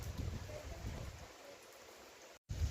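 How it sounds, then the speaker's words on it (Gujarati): Steady rain falls outdoors in Gujarat during a spell of several days of nonstop downpour. A soft, even hiss stays faint and continuous, with a brief cut near the end. "એવો હવાનો ચાલુ ને ચાલુ જ છે વરસાદ"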